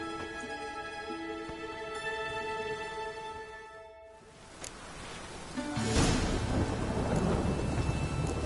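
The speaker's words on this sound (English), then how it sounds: "Rain, I like rain." Steady rain hisses throughout, with a deep rumble of thunder swelling in the second half; no voices.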